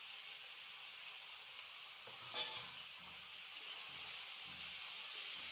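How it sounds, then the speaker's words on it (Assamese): Meat fries with a little ground cumin as it is stirred in a pan, giving a soft continuous sizzle with faint scraping stirs and one brief clink, heard close but quiet. "এইখিনি ধুনীয়াকৈ লাৰি মাংসখিনি দি দিলোঁ"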